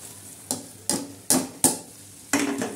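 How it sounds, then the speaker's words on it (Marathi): Semolina roasts in a pan for jaggery lapshi, stirred in a handful of quick scraping strokes spaced a moment apart, each a short sandy rasp over a faint background hiss. "आणि तो रवा मस्तपैकी असा आता आपण हलवून घेणार आहोत"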